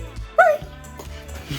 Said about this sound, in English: Here's my puppy, Polly.